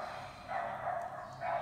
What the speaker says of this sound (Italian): C'è un ritrovo di cani qui sotto.